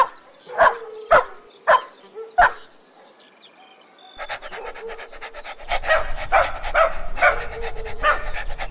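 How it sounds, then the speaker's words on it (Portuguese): A farm dog lets out four loud, close barks, then pants and yips rapidly in a busier, continuous burst. "Os cachorros são animais que gostam de espaço e liberdade."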